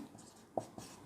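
A pen writes on paper during a math lesson with a few faint scratches and taps near the end, quiet and close.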